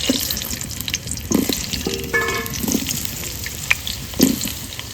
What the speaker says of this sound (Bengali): তেলটা গরম হয়ে গেছে এবার আলুগুলো দিয়ে দেবো